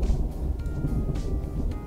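Thunder rumbles low and steady in a farming video game, a deep continuous roll with a few soft surges and no voices over it.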